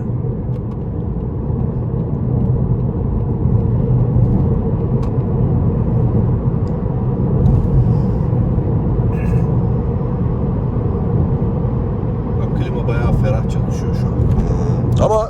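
Inside an Opel Astra L on the motorway, a constant low tire and engine drone fills the cabin, with occasional quiet talk and small clicks near the end.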